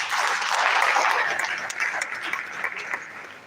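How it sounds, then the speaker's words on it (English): A hall audience at a university alumni association general meeting applauds a professor: dense, steady clapping from many hands that thins out toward the end. "Please, once again, a round of applause for Professor Abdullahi Sulekano"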